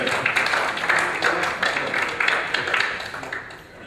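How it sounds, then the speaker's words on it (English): A panel at a Glenn Miller Birthplace Society discussion applauds the audience, giving steady overlapping clapping that stays fairly close and loud, then thins out toward the end, with no talking. "the audience gets an applause from the panel"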